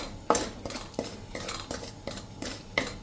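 Ragi flour dry-roasting in a pan while a spoon stirs it, making quiet, evenly spaced scrapes and taps about three times a second with no talking.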